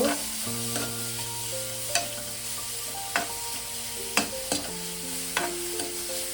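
Grated carrot being stirred and fried in oil for a carrot patisapta filling, with a steady sizzle and sharp spoon scrapes at irregular intervals against the pan, close and alone without any talk.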